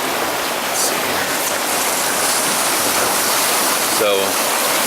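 Floodwater of Ralston Creek rushing beneath a road crossing at Rensselaer in Arvada, Colorado, a steady loud roar of swollen flow throughout, with a brief voice near the end.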